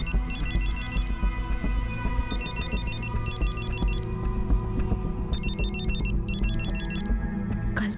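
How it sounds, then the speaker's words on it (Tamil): A telephone rings in repeated electronic bursts, three ringing pulses spaced a couple of seconds apart, over a busy backdrop of steady hum and clatter. "ஃபோன் அடிக்குது, ஆளை காணுமே."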